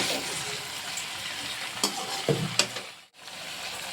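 Jackfruit and mustard curry with jaggery frying and being stirred in a pan, a steady close sizzle broken by a few scraping stirs before it briefly drops away to near silence.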